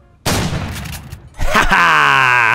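Gunfire in the Prop Hunt video game: a loud burst of shots starts abruptly, then after a pause a second blast gives way to a sustained tonal whine or groan.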